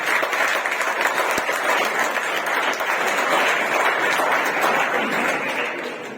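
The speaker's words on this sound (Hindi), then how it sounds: "तालियों के साथ स्वागत करें वाहिद खान का।" A large audience applauds loudly and steadily to welcome a speaker onto the stage at a motivational talk, dense continuous clapping with no voices over it.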